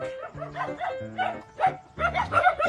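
Several dogs bark and yip in quick repeated bursts, fairly close, overlapping one another with higher yelps near the end.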